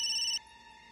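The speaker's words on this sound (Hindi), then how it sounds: "सर का फोन। उठा।" A phone's ringtone sounds briefly as a call comes in, giving a bright electronic tone that stops abruptly after a fraction of a second and leaves a faint hum.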